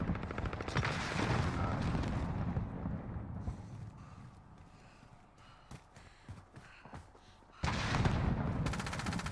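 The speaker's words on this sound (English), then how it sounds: "Rockets away!" Rockets fired in Modern Warfare gameplay: a loud rushing blast at the start fades into rumbling and scattered crackles, then another heavy roaring burst near the end.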